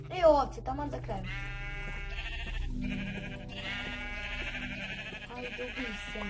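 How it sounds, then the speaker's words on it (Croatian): Minecraft sheep bleat a few times in a survival game, heard over steady in-game music while a person talks over the scene. "Ovce, taman za kraj."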